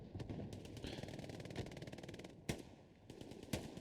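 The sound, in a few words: STG assault rifle gunfire in the video game Hell Let Loose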